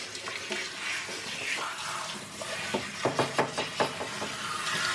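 Water runs steadily while rinsing soap suds off a Shih Tzu puppy during a bath, with a few splashes and quick knocks toward the end.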